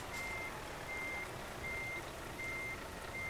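Truck reversing alarm in Euro Truck Simulator 2, a steady series of evenly spaced electronic beeps repeating about every half second over a continuous engine and road rumble.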